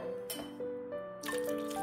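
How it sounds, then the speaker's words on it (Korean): About 600 ml of water poured into a blender jar: a close, gurgling stream of liquid whose bubbling pitch shifts as the jar fills, with no voices. "물을 3컵의 양인 600ml를 붓고"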